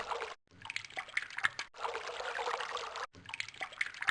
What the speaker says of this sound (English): That seems to stop the water.